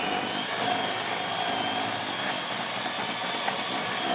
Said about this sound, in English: And here comes the mixer.